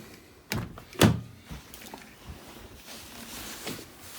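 A 2001 Acura CL door opens and shuts nearby with a couple of sharp thunks, the loudest about a second in, followed by quieter clicks and handling noises.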